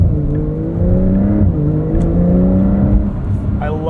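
A 2025 Porsche 911 Carrera S (992.2) with an 8-speed PDK gearbox accelerates, its engine drone steadily rising in pitch and falling back at a shift, heard from inside the cabin while people talk.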